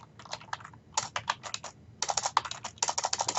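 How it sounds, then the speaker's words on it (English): Rapid typing on a computer keyboard comes in bursts of close, crisp key clacks separated by short pauses, with no talking. "I can now type out my test news item"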